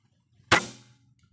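A single sharp, short air rifle shot crack, a Hammer firing a homemade slug at a bottle cap, followed by a quick fading tail, alone against near silence.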